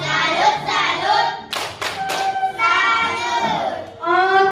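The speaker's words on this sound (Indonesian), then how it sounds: "tepuk tangan dulu buat kelompok 2 yang benar." A classroom group claps together in a burst of loud applause that rises, breaks briefly, then resumes with excited children's voices mixed in.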